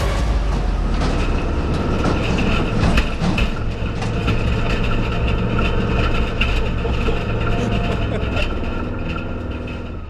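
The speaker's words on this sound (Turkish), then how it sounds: "Evet, yerdeki tümseklerden traktörler, römorklar zıplaya zıplaya geçti. Hızlar artıyor çamurlu pistte." Tractors towing trailers race over bumps on a muddy arena track, engines droning loudly and steadily throughout with clattering rattles, as a commentator talks over the action.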